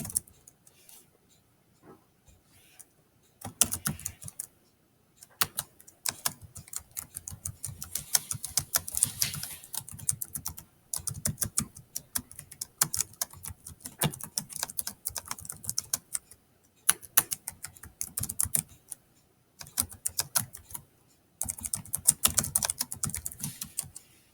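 Computer keyboard typing heard alone in bursts of rapid key clicks, with short pauses between runs, fairly close and moderately loud.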